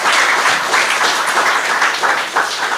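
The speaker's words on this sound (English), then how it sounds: "Round of applause." An audience at the Piton Management Area 20th anniversary ceremony gives a dense, loud round of applause, a sustained wash of many hands clapping at once, heard on its own.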